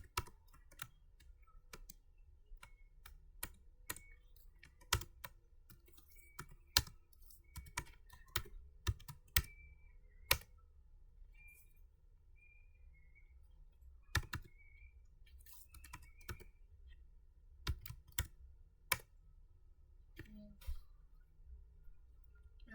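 Keys clack on a computer keyboard while editing in the nano editor: quiet, irregular bursts of keystrokes with short pauses between runs, close by and with no talking.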